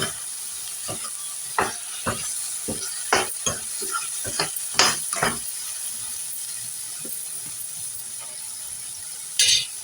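Tomato curry sizzles in a pan while a spoon stirs it, giving a soft steady hiss broken by a series of sharp scraping clicks at irregular intervals, close and fairly quiet, with no talking.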